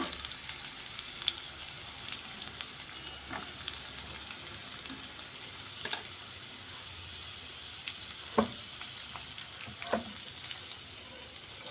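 Beans sizzling and frying in a hot pan while cooking upma, a steady close hiss with occasional sharper crackles and stirring clicks, continuous throughout with no voices.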